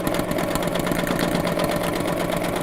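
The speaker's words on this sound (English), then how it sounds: "So just going over the lines that I've already sewn." A sewing machine stitches over fabric backed with wadding, retracing lines already sewn, giving a steady, continuous mechanical whir with a fast even rhythm, close and alone.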